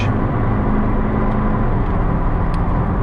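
A new 2019 McLaren 600LT sports car driven gently on a cold day, giving a steady, smooth engine drone with low rumble and road noise throughout, no revving surges.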